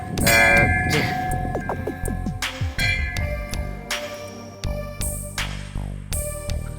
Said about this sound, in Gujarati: ઘંટનાદ કરી અને પ્રભુના દર્શન કરે